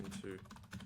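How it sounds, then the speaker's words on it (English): Quiet clicking of keys on a computer keyboard, a short irregular burst of taps under a faint background voice. "if you just bear with me with the typing"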